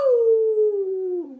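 A storyteller's voice imitates a dog howling, one sustained falling wail lasting just over a second and heard alone, close and clear.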